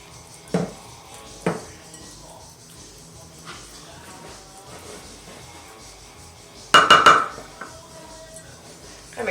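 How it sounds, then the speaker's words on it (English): Spoon scraping cobbler topping from a mixing bowl, with a few sharp isolated clinks spaced apart and then a brief louder cluster of metallic scrapes and knocks against the bowl. "Scrape the bowl, get the last of the goodies in there."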